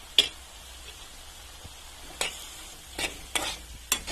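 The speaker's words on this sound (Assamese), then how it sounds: "এতিয়া এইখিনি আকৌ ভালদৰে মই লৰাই দিম।" A spoon stirs a salted mixture in a cooking pan, giving a few separate scraping sweeps spaced over a few seconds against a quiet background, with no talking.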